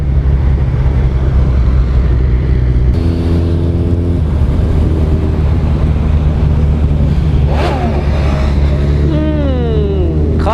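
A Suzuki Hayabusa superbike roars through a wheelie on a ride to a temple in Chhattisgarh, a loud sustained engine drone with rising revs near the end, mixed with wind.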